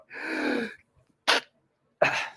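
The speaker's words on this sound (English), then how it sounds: "I got to sneeze." A loud, close sneeze followed by two short sharp bursts, sneezes or coughs, with brief silences between them.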